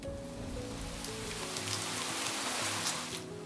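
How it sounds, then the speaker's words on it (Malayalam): Heavy rain pours down in a dense, steady hiss during a desert thunderstorm in Saudi Arabia, accompanied by a low sustained musical drone underneath. "വൈകാതെ മിന്നലുകൊണ്ട് വേരുകളാഴ്ത്തി പൊട്ടിപ്പെയ്യുന്ന മഴയാണ്"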